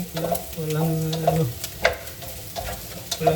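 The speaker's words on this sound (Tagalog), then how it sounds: "Kailangan lang imikos-mikos ni Joe." Gnocchi stirred around a pan on the stove for a creamy gnocchi dish, with soft scraping, shuffling and a faint sizzle running steadily, close by, with no talking.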